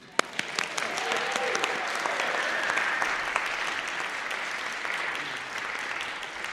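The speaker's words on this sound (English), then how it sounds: "She's here, let's give her a clap." An audience at a church faith formation session claps continuously, a steady crowd of hands that stays even for the whole stretch, with no voices over it.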